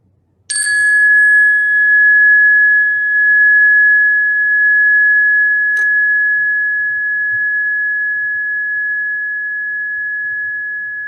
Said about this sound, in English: bringing a gentle attention to the sound of the bell